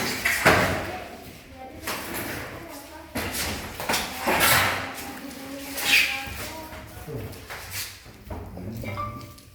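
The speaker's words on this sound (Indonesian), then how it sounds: "Ini lagi pemasangan pintu." Installation of a PVC door in a work room, with repeated knocks, taps and scraping thuds at varying intervals and moderate loudness, under occasional nearby talking.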